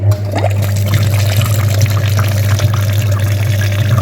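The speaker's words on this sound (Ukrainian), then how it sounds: "Миємо радіатор пічки та тестуємо, скільки видає права сторона" Water flushing through the heater radiator of a VW Passat B7 2.0 TDI, a continuous pouring, splashing flow over a steady low hum, loud and close with no voices.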